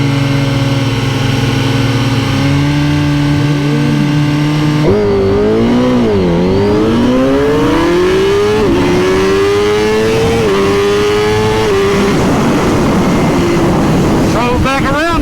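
Two 2021 superbikes, a GSXR 1000R and a ZX-10R, launch at 4,500 RPM on a racetrack. The engines drone loudly, dip, then climb through repeated rising revs under heavy wind buffeting, with brief speech mixed in.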